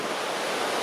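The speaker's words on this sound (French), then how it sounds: "Alors je m'approche du pied de la cascade." Steady roar of a waterfall at the foot of the Cirque de Gavarnie in the Hautes-Pyrénées, a dense, loud, broadband rush heard up close with no pauses or other sounds.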